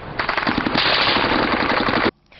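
Gunfire in Homs: a rapid burst of automatic shots, loud and close, rattling continuously for about two seconds before stopping abruptly, followed by faint background noise and no speech.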